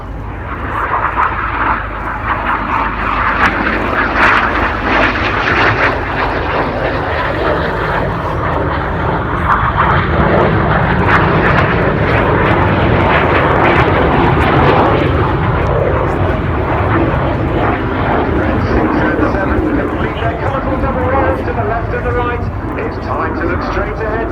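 Loud, continuous roar of RAF Red Arrows jet aircraft during an air display at RAF Cosford in 2019, with two formations closing head-on at high speed; a commentator talks over the engine noise throughout.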